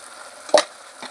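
Chili powder and salt are stirred into tomato in a pan, a brief spatula scrape rising out of a faint sizzle, followed by a softer second stroke.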